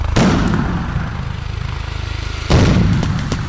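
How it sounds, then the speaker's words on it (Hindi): Rapid gunfire from Serbian soldiers during a military exercise, loud and close, with two sharp blasts breaking into sustained, rumbling bursts of shooting. "इशारा मिलते ही उन्होंने ताबड़तोड़ गोलियां बरसानी शुरू कर दी।"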